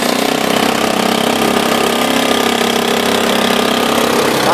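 A homemade amphibious vehicle's engine runs loud and close, a steady mid-pitched mechanical drone with gentle throttle swells, alone without talk.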